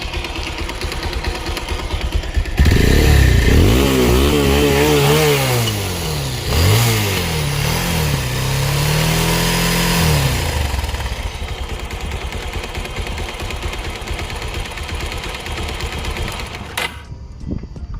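A Bajaj Pulsar 220 motorcycle engine revs hard several times with rising and falling pitch, then settles into a steady, loud idle close by.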